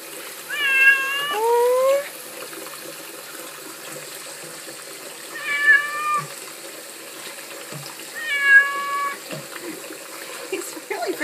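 A pet cat named TJ meows several times while being given a bath in a sink, with three distinct wavering cries spread apart and faint running water in the background.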